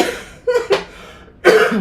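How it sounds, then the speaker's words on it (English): Two bursts of harsh, throaty coughing, close and loud, separated by a short pause. "I'm having like a whole coughing spell"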